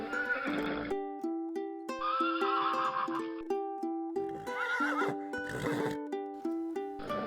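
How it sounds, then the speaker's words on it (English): A horse whinnies a few times over soft, plinking music with gentle repeating notes. "The horses, with their strong and majestic presence, were Mr. Brown's favorite."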